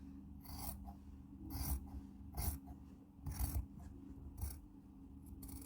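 Scissors cut through fabric for a blouse, with about five faint, rhythmic snipping rasps over a low steady hum, no voices.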